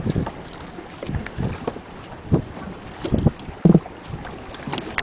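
Red drum fish drumming beneath the water, heard as a few low, short thumping pulses scattered through steady wind and boat noise on open water.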